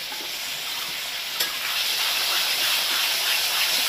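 Water poured into hot masala in a pan gives a steady, loud hiss and sizzle that rises after a brief sharp burst and holds to the end, with no voices.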